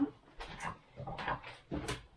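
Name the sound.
dog putting away a bone, making odd noises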